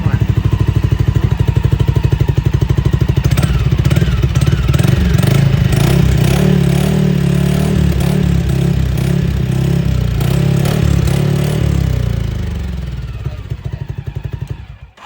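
Engine of an FX Predator Fang 400cc UTV with a catalytic converter revving up close, a steady throbbing idle rising into a few rough revs before dropping away.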